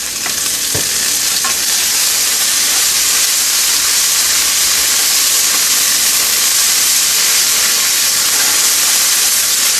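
Thai green curry paste fries in a pan of oil for a vegan curry, a loud, dense, continuous sizzling hiss with a faint clink near the start, steady throughout.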